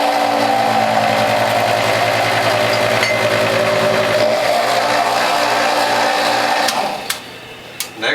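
A Whole Health Foundation juicer runs with a steady motor drone and grinding as carrot pulp is pushed through the feed tube, then winds down with a few knocks near the end.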